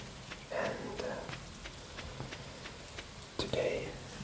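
Soft rainfall patters in the farming video game Stardew Valley, a light steady drizzle with faint drop ticks, heard under a quiet whispered voice that comes and goes.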